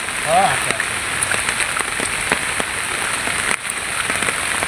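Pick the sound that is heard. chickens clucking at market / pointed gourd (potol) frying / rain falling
rain falling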